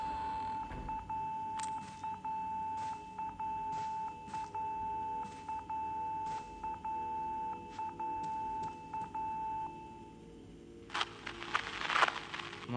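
In the Fatal Frame game, a phone rings somewhere in a room as a steady electronic tone with repeated short beeping pulses. It stops near the end and gives way to brighter, noisier sounds, and nobody speaks.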